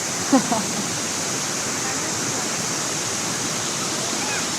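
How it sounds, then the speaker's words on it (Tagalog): Mountain waterfall near Trabzon, a steady broadband rush of falling water that stays constant throughout, with a brief faint voice near the start. "You see the falls, guys?"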